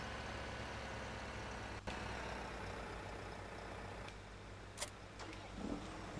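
A New Holland T6 tractor in a farming video game, its engine idling in a steady low rumble, quiet and continuous, with a few faint clicks along the way.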